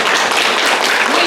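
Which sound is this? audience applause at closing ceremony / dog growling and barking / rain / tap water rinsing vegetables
audience applause at closing ceremony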